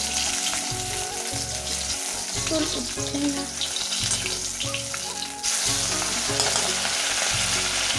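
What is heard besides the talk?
frying fish in a wok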